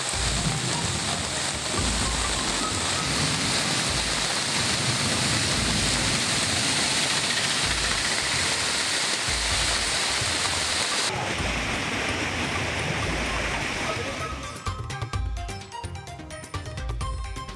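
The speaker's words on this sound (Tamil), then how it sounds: "கன்னியாகுமரியில் திடீரென கொட்டி தீர்த்த கனமழையால் சாலையில் பெருக்கெடுத்த வெள்ளம்." Floodwater from a sudden heavy downpour in Kanniyakumari rushes along a road in a loud, steady, broadband roar that continues unbroken and then thins toward the end.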